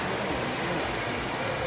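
Steady rushing waterfall inside the Acqua Mundo aquarium in Guarujá, a broad, even roar of falling water filling the whole stretch without pause.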